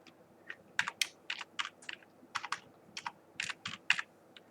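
Computer keyboard being typed on while writing C code, close and fairly quiet, with irregular bursts of crisp key clicks separated by short pauses.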